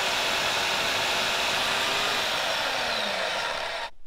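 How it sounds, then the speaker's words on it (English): A portable bandsaw cutting through stock, a loud continuous whirring drone held steady for about four seconds before it stops abruptly. "You can see the versatility of this awesome bandsaw."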